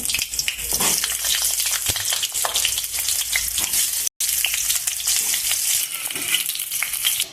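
Loud, close sizzling of pointed gourd frying in mustard oil, a dense continuous crackle with a brief dropout midway and no voices.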